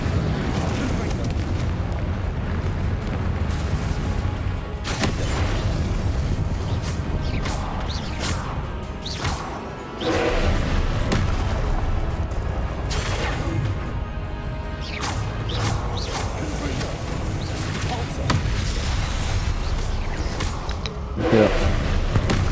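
Explosive Confringo spell blasts in the Hogwarts Legacy video game, a dense run of loud booms, crashes and whooshes of combat in close succession, with a player shouting spell names over the din.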